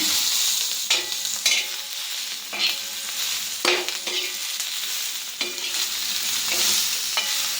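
Chopped onion stirred and fried in a pan, a steady close sizzle broken by repeated scraping stir strokes at an irregular rhythm, with no voices.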